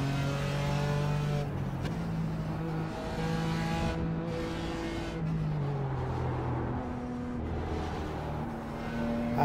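A BMW race car engine in the iRacing sim drones steadily on the opening lap of a BMW 12.0 Challenge race at Charlotte Roval. The pitch rises and falls with gear changes, with no talking.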